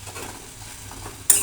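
Spice masala fries and is stirred in a pan while cooking a fish roe dish, a soft continuous sizzle with light scraping strokes, followed by a sharp metallic clink at the end.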